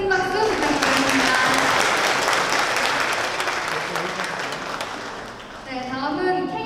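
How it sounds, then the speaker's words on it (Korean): Loud, sustained audience applause fills a concert hall during guest introductions at a riverside estuary talk concert in Busan, dense and steady before easing slightly, with a voice speaking over the end. "큰 박수 부탁드립니다."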